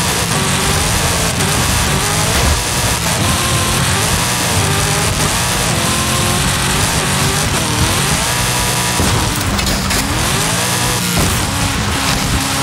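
Loud, continuous engine roar from an off-road car tearing cross-country in Forza Horizon 5, revving and shifting over dense game music with no talking.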